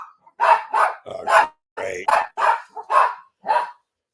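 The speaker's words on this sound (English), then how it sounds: "Sorry about the dogs. They're just greeting." Several dogs bark indoors in a room, a run of about ten loud, close barks in an uneven rhythm, with a short remark spoken in between.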